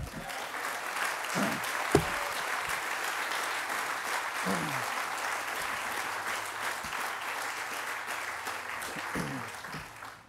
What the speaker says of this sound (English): I really want you all to give yourself a round of applause